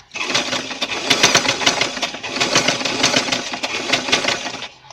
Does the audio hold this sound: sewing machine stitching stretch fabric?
yes